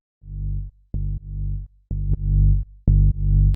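A deep sub bass layer from a melodic vocal house track made in FL Studio plays as a series of sustained low notes in a rhythmic pattern, clean and loud, with short clicky attacks.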